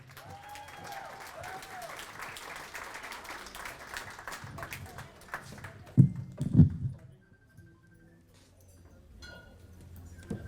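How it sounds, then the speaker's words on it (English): An audience at an awards ceremony applauds for a performer, a dense wash of clapping for about six seconds that then tapers off into near quiet, with a few louder bumps and brief sounds as it fades. "Please give a big round of applause for Amber Vindaglia."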